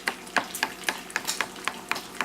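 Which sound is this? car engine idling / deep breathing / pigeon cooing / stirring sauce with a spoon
stirring sauce with a spoon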